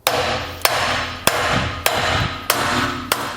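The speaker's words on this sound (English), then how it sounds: "I'm going to take a block of wood and a hammer and see if we can" A hammer strikes a block of wood held against a seized square connecting arm on a Demco tow bar, six sharp metallic-wooden blows at a steady, evenly spaced rhythm, close and loud over a constant background hum.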